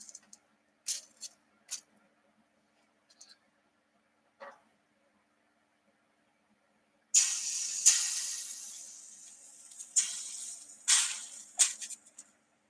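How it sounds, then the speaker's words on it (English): Water hisses and sizzles on a hot toaster oven, starting with a few faint scattered ticks and crackles before bursting into loud, sustained hissing with several surging peaks. "So that was the hissing water on the toaster oven."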